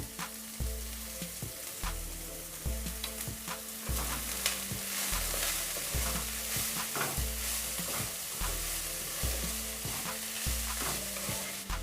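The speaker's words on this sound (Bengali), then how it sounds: "1 মিনিট নাড়িয়ে নেব" Shredded cabbage filling with salt, roasted cumin-coriander, turmeric, mashed potato and pepper is stirred in a frying pan for spring rolls. A utensil scrapes in a steady rhythm over a soft continuous sizzle, close and fairly quiet.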